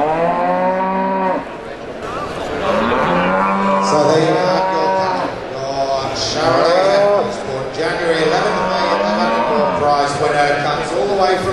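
Beef cattle at a Charolais livestock show bellow in long drawn-out moos, one after another and overlapping, loud and close, with a faint murmur of a crowd beneath.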